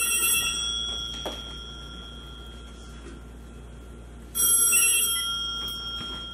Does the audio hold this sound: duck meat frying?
no